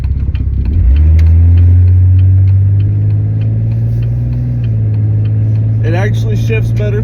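A 2000 Jeep Cherokee 4.0 engine revs loudly and holds a steady, strong drone as the vehicle pulls away, close by, with someone briefly talking near the end.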